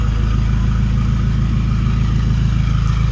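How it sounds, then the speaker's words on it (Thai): A Toyota Commuter 2.5 diesel van with a racing exhaust idles steadily, giving a loud, deep, rumbling drone that stays even throughout, heard close with no voices. "จะค่อยฟังนะครับเสียงนะครับ ท่อ ท่อซิ่งท่อซิ่งนะฮะท่อซิ่ง"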